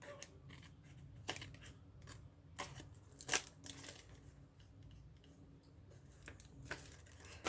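Scissors cut through paper for a happy mail craft in several close, crisp snips spaced out over quiet, with no talking.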